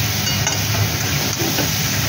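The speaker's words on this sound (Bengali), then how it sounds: "এবার এটা নাড়ছি।" Soybean curry fries in a pan as it is stirred, giving a continuous close sizzle and hiss with faint scraping through the short stretch, no voices over it.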